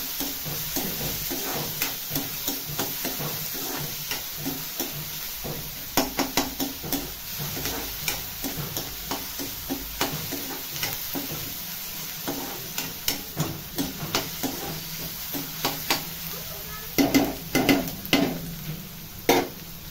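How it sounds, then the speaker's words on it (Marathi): Onion frying in a pan for a Marathi wild-greens dish, with a steady sizzle and a run of regular scraping stirs and spatula taps that grow a little louder near the end. "कांदा चांगला भाजून घेऊया."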